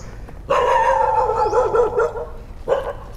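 A dog at the 700-year-old Bang Krasop temple in Samut Prakan province, Thailand, lets out one long, loud, drawn-out bark close by, then a second shorter bark after a pause.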